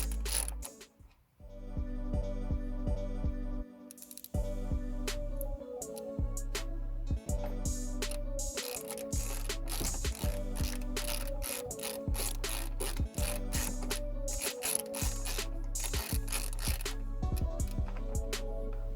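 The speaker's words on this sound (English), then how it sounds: "you can speed up the process by using normal ratchet swing and the handle spinning at the same time." Facom Rotator 3/8-inch ratchet being worked, a close, continuous run of rapid pawl clicking in repeated bursts with brief pauses between strokes.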